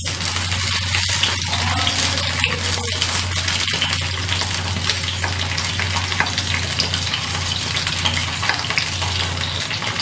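Vegetables sautéing in oil over a medium flame for a Tamil kulambu, giving a loud, steady sizzle throughout, with a few stirring scrapes early on.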